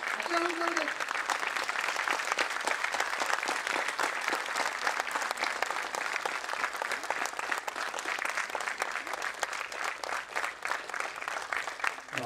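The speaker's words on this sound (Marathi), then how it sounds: "जरा जोरदार टाळ्या जरा" An audience applauding at a world record celebration, dense continuous clapping that stays strong for the whole stretch, with a brief voice near the start.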